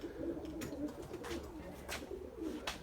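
Pigeons coo softly in a pen, repeated low throaty calls over a faint background with a few scattered brighter sounds, quiet and close with no talking.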